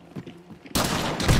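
In Hunt Showdown, explosive-ammo gunfire erupts as a sudden loud blast after a quiet stretch with faint movement, then a dense, crackling roar that fills the rest of the moment.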